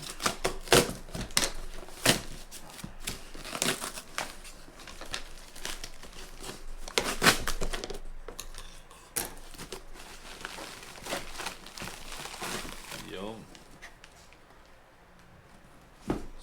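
Unboxing a replacement Arai XD4 visor: close plastic packaging crinkles and crackles in bursts, with sharp tapping clicks and tearing, easing to quieter rustling near the end.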